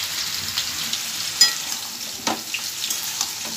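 Ash gourd with salt and turmeric frying in a pan, a soft close sizzle with scraping stirs and a couple of louder clacks of the spoon, brief and steady.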